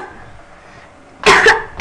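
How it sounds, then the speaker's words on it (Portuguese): A person coughs twice in close succession, then starts a third cough, loud and near, after a quiet stretch of faint room noise. "Tosse."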